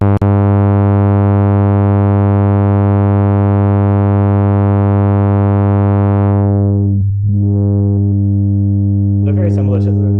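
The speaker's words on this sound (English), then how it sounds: "This time we're going to use a low-pass filter." A steady synthesized tone, rich in harmonics, is live-coded through a low-pass filter; partway through the filter sweeps down and closes, briefly dipping the sound before it continues, with a short voice at the end.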